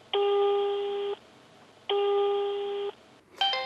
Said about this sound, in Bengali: ভাইয়া আপনার ফোন বাজছে